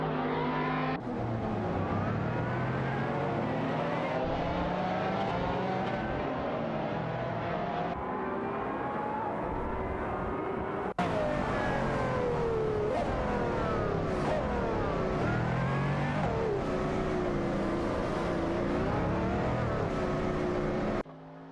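Race cars roar continuously in a racing video game, including a McLaren F1 GT and a Ford GT, engines whining and shifting pitch as they rev and pass, loud and unbroken with no talking.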